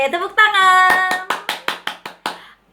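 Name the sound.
children clapping hands at Sunday school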